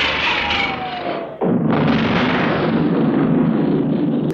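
A big explosion in a 1983 action film erupts with a sudden heavy roar that sustains for a few seconds after a brief buildup of rumbling noise.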